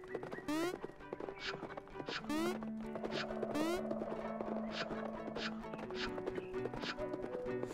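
A beetle in a video game scurries with rapid clip-clop steps like a galloping horse, sharp repeated taps in quick bursts mixed with rising whinny-like whistles and a sustained tone underneath.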